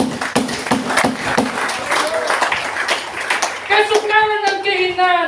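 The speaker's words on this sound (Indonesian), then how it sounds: "Bisa tepuk tangan untuk bos besar ini." A church congregation at a Sunday morning service claps along, with steady, fairly loud rhythmic applause. Toward the end a sustained tonal sound rises over the clapping.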